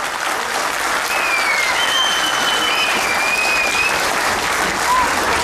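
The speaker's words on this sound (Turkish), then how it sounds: "Bu yüzden bir alkışlayalım Tarkan'ı." Steady applause from a crowd at a Beşiktaş club event, sustained throughout with a few faint whistles rising above the clapping.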